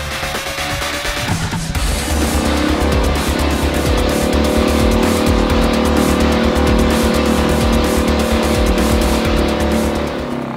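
A newly bought motorboat engine runs hard at speed, a loud, sustained roar with a steady pitch and dense buzzing texture that continues without a break.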